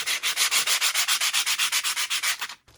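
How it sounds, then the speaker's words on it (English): Keytags being sanded by hand in steady rapid back-and-forth strokes, about twenty even rasping passes, close and loud, stopping abruptly near the end with no talking. "Okay, I'm done with the sanding."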